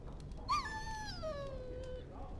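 A dog whimpers once in the Dragon Age: Origins video game, a single high, drawn-out whine that falls in pitch, fairly close over a quiet background.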